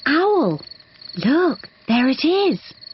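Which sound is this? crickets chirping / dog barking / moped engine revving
crickets chirping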